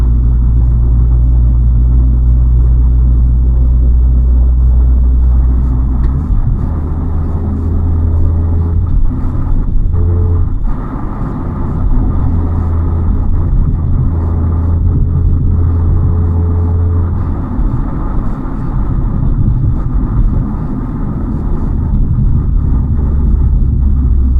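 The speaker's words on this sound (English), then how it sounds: "Traffic today is very, very good on this Pennant Hills Road." Steady low rumble of a car driving in light traffic along Pennant Hills Road in Sydney, recorded from inside the cabin, with constant road and engine noise and no talking.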